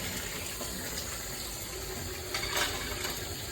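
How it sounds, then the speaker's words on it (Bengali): Tap water runs steadily into a sink while dishes are washed, with a brief louder splash or clatter near the end and no talk. "এই এখন বাসন ধোয়া হচ্ছে"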